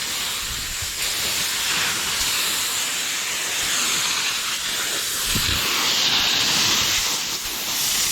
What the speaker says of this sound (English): Air hose sounds horrible.